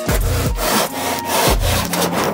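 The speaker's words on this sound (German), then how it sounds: "Schau an, gesägt hast du schon mal." A hand saw cuts through wood to shape a climbing hold, four loud, close back-and-forth strokes in a steady rhythm, with no voices.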